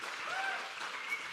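Conference audience at Manchester Pride Conference 2022 claps steadily, a dense wash of many hands filling the room without pause.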